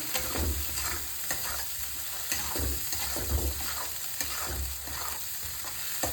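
Paneer kofta mixture fries in a pan with a continuous close sizzle, broken by soft rhythmic stirring pulses throughout.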